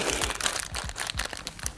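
A plastic bag crinkles and crackles up close in quick bursts of rustling, with a faint low thumping rhythm underneath.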